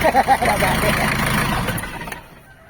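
A smoky Nissan Urvan van engine with a valve fault cranks in rhythmic pulses and then fades out, with people talking close by.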